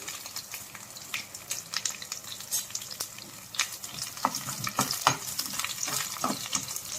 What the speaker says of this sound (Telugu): వెల్లుల్లి ఎర్రగా వేయగాలి వేగితేనే సాంబార్కి పప్పుల్లోకి చాలా బాగుంటుంది